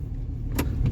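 A vehicle towing a trailer pulls away, its engine a steady low rumble close by, with a brief sharp click or rattle partway through and no one speaking.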